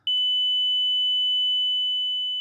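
Second sine wave test tone, a pure high pitch that starts abruptly and holds steady for over two seconds, alone and fairly loud.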